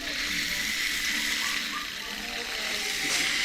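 Tap water gushing steadily from a newly installed faucet at a house, with strong pressure and a constant broadband rush, heard close with people talking over it.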